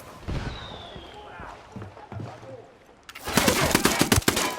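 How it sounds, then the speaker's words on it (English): Gunfire in the video game Ghost Recon Wildlands: a dense burst of rapid shots erupts loudly in the second half after quieter ambient game sounds and scattered thumps. "I'm opening fire on these shitheads"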